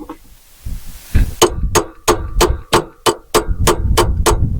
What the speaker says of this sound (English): because this is aluminum, and you apply a little bit of pressure to take it out, and then you tap on it